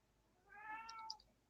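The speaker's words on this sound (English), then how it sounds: "Her cat answered you." A house cat gives a single drawn-out meow of about a second, fairly close and clear over a quiet background, with no one talking.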